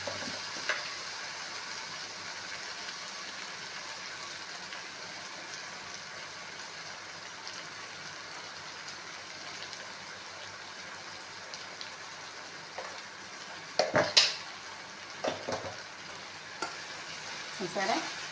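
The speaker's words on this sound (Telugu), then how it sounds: "రొయ్యలను వంకాయలు చక్క మగ్గిపోయింది అంతా." Shrimp and eggplant curry simmering and sizzling in a pan, a steady soft frying hiss throughout with a few louder stirring clatters near the end, no talking.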